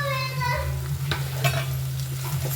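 Ginger and garlic sizzle steadily in a hot pan, a loud continuous frying hiss with a few sharp stirring scrapes of a spoon on the pan, no voices.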